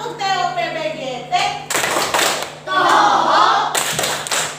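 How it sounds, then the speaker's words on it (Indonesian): A school class performs a rhythmic group clap for a team, short bursts of clapping in patterned beats separated by children's chanting voices, close and lively. "Kasih tepuk TOPBGT dulu untuk kelompok ini"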